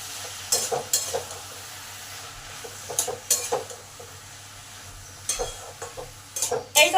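Ridge gourd sautés with spices and softened tomatoes in a pan under a low sizzle. Sharp, repeated clanks of a spatula against the pan come in bursts.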